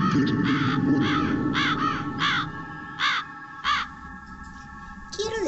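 Crow cawing in a short series of harsh, evenly spaced calls, fairly close, over a faint steady background hum.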